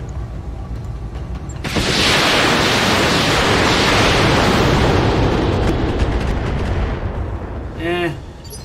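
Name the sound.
mech weapon shot firing in BattleTech video game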